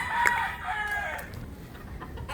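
Hens in a backyard coop cluck and squawk nearby in short, overlapping calls against a low background hum.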